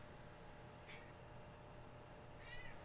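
A cat meows twice, a short call and then a longer one, faint and somewhat distant against steady low background noise.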